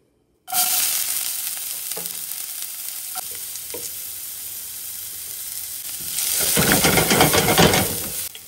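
Spices hit hot oil for a chicken dish with a sudden loud sizzle. A steady hiss follows with faint clicks, and it swells into a fuller frying roar near the end. No voices.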